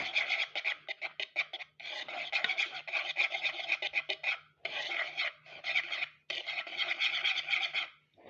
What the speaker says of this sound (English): now we're just going to mix it together with a whisk